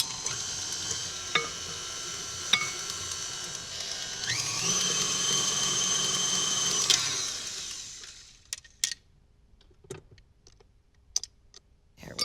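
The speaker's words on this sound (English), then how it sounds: "with the mixer on low, I'm going to add the flour" A stand mixer runs on low speed as flour is worked into a batter, a steady mechanical whir with a few clicks that winds down and stops, leaving scattered small clatters.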